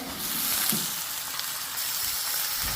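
Chopped ivy gourd sautés in hot oil with onion and curry leaves, giving a loud, continuous close-up sizzle with no talking.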